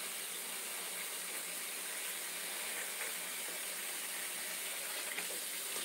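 Water runs steadily from a bathroom tap while a face is rinsed, a faint continuous splashing hiss with no talking.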